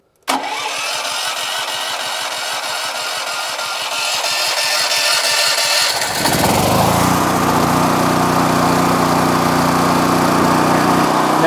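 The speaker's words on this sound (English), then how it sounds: "we're ready to start the generator" A portable gasoline generator cranks with a rapid, loud chugging, then catches at about six seconds and settles into a steady, close engine drone that continues to the end.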